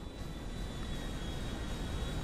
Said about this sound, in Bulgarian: Самолетът се разбива!